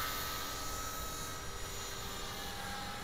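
An Align T-REX 450 RC helicopter with a flybarless controller flies into a 10–15 mph crosswind, heard as a steady, faint, distant rotor whine blended with broadband wind rush, unbroken throughout.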